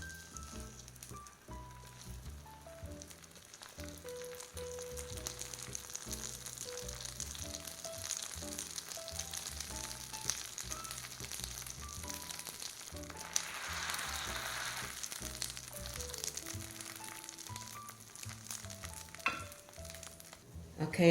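A garlic bread grilled cheese sandwich fries in a heated skillet with a continuous, soft sizzle and crackle that holds steady throughout, with faint tonal sounds in the background.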